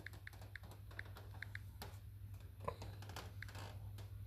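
Light, quick taps of typing on a computer keyboard, heard faint and close in uneven rhythmic clusters over a steady low hum.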